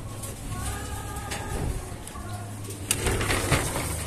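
Pigeon cooing in low, soft repeated phrases, near and moderately quiet, with faint background rustle.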